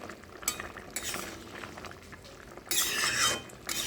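Chilies are crushed and stirred into a prawn and taro curry, with soft irregular scraping and clinking of a utensil in the pot and a louder rough burst of stirring near the end.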